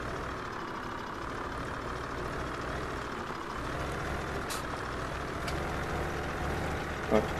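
A truck engine idles and rumbles in the Farming Simulator 17 game, a steady low drone throughout with a faint hiss like an air brake, while someone talks over it.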